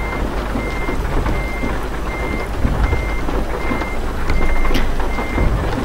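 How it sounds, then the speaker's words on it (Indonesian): Steady rain falls around a cargo truck driving at night, a dense continuous hiss over low engine rumble, with a faint repeating beep running throughout. "seperti biasa masih hujan guys"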